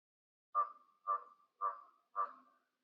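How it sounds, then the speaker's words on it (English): A raven croaks from overhead in snowy winter woods in northern Nova Scotia: four clear, evenly spaced calls about half a second apart, moderately near, with silence between them and no talk. "There's a raven up there. I can hear him croaking."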